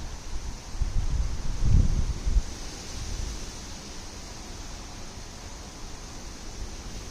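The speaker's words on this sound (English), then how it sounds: "it looks like it's pretty windy outside" Wind buffets and rumbles against the microphone, strongest early on, then settles into a steady low roar of blowing air.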